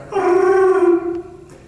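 A person's voice imitates Chewbacca with one loud, close, drawn-out moaning roar lasting about a second, then trailing off.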